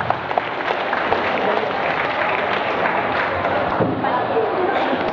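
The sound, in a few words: applause for the organizer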